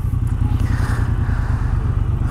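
A Triumph Bobber motorcycle fitted with an aftermarket Vance & Hines exhaust and a de-cat idles close by with a deep, steady, throbbing pulse and faint mechanical clatter.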